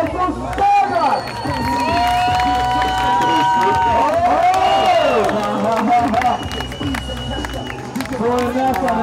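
Loud crowd cheering and applauding at a BMX pro final of the Ghetto Games, with an announcer's voice talking over the continuous roar.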